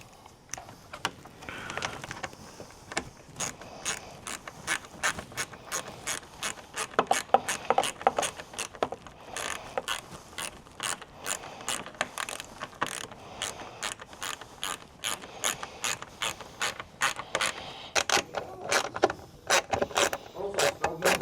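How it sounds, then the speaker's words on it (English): Screws are driven back into a motorcycle headlight assembly during installation of a RAVEK Speakeasy turn signal kit with signature lights on an HD11, rapid ratcheting clicks rattling in quick bursts, close and moderately quiet throughout. "And then we can get our screws back in."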